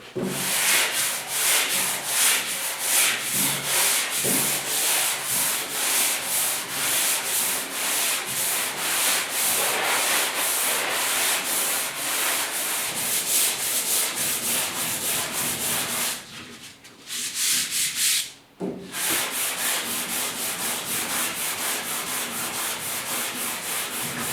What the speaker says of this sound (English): Sanding on these box sides is really going to test your patience.